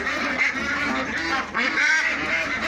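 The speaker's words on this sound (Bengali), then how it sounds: "এই যে দেখো হাঁস কিভাবে ডাকে" Ducks at a pond quack repeatedly in raspy, overlapping calls, close by and fairly loud, with no speech over them.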